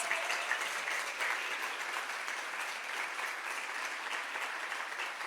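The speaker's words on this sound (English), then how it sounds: "Let's give her another round of applause." A breakfast audience at a women's history event gives a sustained round of applause, dense and even clapping from a large room that holds steady throughout without fading.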